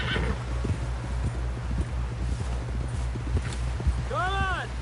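A horse gallops in the video game Red Dead Redemption, its hooves beating a rapid, steady clip-clop up close, and a whinny rises near the end.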